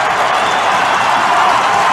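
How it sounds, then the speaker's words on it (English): A packed ice hockey crowd at Vindico Arena roars during a fight between the Cardiff Devils and the Steelers, giving a dense, steady wall of cheering and shouting with no breaks. "geeing up this Vindico Arena crowd"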